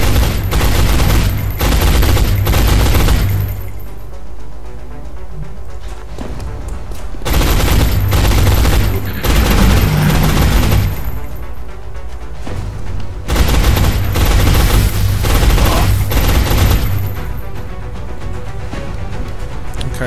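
Loud bursts of automatic gunfire from the strategy game XCOM: Enemy Unknown come in three long volleys with quieter gaps between, close and dense, with no talking over them.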